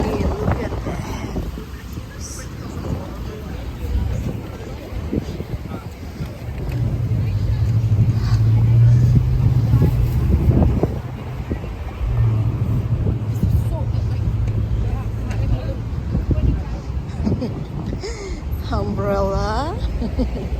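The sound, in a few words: strong wind blowing outdoors by the street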